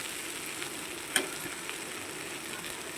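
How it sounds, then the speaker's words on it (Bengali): Fried river fish are stirred into a curry in a pan over a low flame, giving a soft continuous sizzle with one brief clack of the spoon or lid. "এবারে ভেজে রাখা মাছগুলো দিয়ে দিলাম দিয়ে সুন্দর করে নেড়ে চেড়ে মিশিয়ে নেবো"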